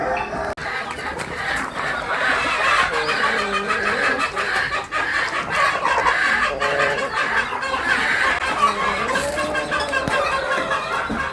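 Native country hens on a homestead farm cluck and squawk in a busy, overlapping chorus that carries steadily throughout, with no one talking.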